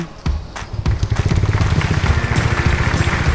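Rain patters on a surface in a dense, steady rush with a low rumbling undertone, loud and close, no voices.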